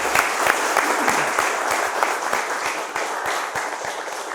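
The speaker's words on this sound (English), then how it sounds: "a round of applause for both" Studio audience applauding quiz teams on a climate quiz show, a dense, loud, steady round of clapping from a crowd that carries on without pause, with no voices over it.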